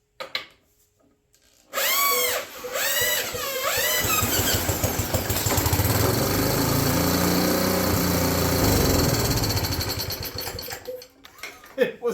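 A drill spins a converted Briggs small engine, starting with a rising whine after a quiet opening, then settling into a loud, steady mechanical churn that drops away near the end.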